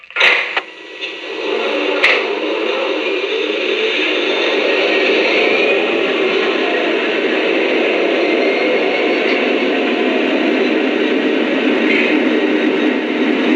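A pair of Lionel SD40T-2 tunnel motor model locomotives start up with a sharp click, then settle into a steady, loud diesel rumble with heavy bass and constant hiss that holds throughout.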